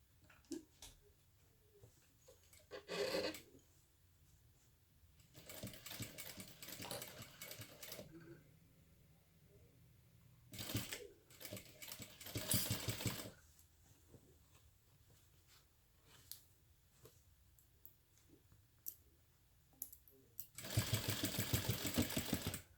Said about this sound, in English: we will start sewing right at the end of that line of stitching